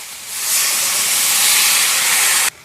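Water poured into a hot pan of fried-down pond tilapia curry cooked over firewood sends up a loud, steady hiss of steam and sizzling that builds, holds evenly and then cuts off sharply.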